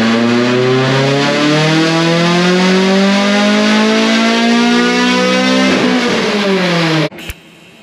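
A G23BK car engine revs hard on a dyno, its pitch climbing steadily and loudly for about seven seconds before cutting off abruptly, leaving a brief clunk and quiet.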